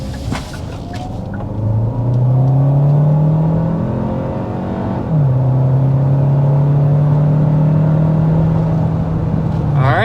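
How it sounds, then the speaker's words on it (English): A 2024 Hyundai Santa Fe Hybrid under hard acceleration up a hill, its engine note climbing steadily, then briefly dropping at a gear shift before rising again, loud and continuous inside the cabin. "we're going to go ahead and start with a hard acceleration"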